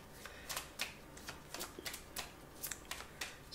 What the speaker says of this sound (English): well, let's shuffle